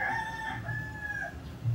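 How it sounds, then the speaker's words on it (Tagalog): A rooster crows loudly and close by, a drawn-out cock-a-doodle-doo with harmonic tones, followed by a brief cluck, with no talking. "Diba ang ingay ng manok?"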